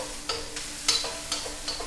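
Watermelon radish and sugar snap peas stir-frying in a wok, with a soft sizzle under sharp intermittent scrapes and tosses of the utensil against the pan, close and fairly loud.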